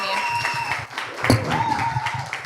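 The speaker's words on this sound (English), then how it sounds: "Can we have another round of applause for Amy?" Applause for Amy at a pitching event, a brief burst of clapping from an audience that fades quickly beneath a speaker's voice.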